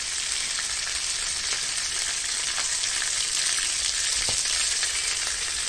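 Ground pork fries in a pan for a Thai chili dip. A loud, dense, even sizzle runs close and unbroken the whole time, with faint stirring ticks underneath.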